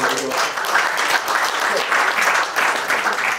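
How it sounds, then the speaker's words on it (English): Sustained audience applause fills a conference hall at a radio industry event, dense and steady clapping from a sizeable crowd throughout, with no voices standing out above it. "a big round of applause"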